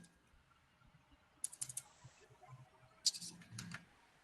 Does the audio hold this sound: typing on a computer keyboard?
yes